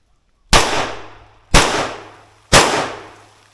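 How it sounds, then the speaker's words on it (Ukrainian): Three sharp AK-74K rifle shots ring out alone at even one-second intervals, each a loud crack with a decaying outdoor tail. "вимикаю ліхтарик і три постріли"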